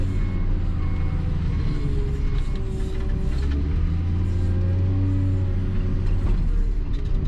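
A John Deere 624K wheel loader sorting logs runs with a constant heavy engine drone, hydraulic whine and creaking, close and loud throughout.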